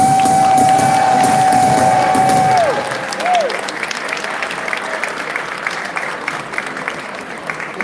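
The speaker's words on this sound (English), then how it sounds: "give another round of applause" Applause from an audience at a 20th-anniversary celebration event, loud and sustained throughout, joined by a sustained whistled or sung tone for the first few seconds before the clapping continues alone.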